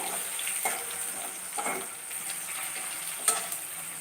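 Tomato fried in oil gives a steady close sizzle, with a few soft scraping stirs breaking through at irregular moments. The clip holds no talk.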